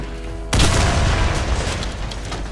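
A grenade blows up in the Warface shooter game, one sudden loud blast after a brief quiet moment, followed by a long rumbling tail and scattered gunfire.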